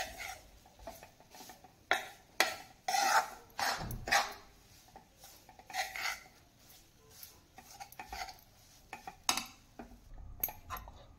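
A spoon scrapes and knocks against a pan in uneven bursts as semolina and gram flour roast over a medium flame, each stroke close and clattery, with short quiet gaps between strokes.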